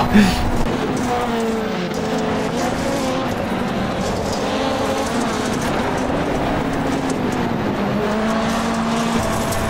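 Engine of a VW Beetle Lite race car at Daytona in the iRacing video game, a loud steady droning whine holding a sustained pitch throughout, with no voice heard.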